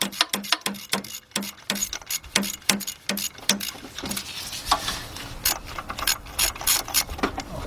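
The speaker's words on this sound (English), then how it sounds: "Alright guys, we're taking out the second bolt." A hand ratchet backing out a bolt from an engine part on a Chrysler 300, a close, loud run of evenly spaced clicking strokes that speed up and blur into quicker ratcheting near the end.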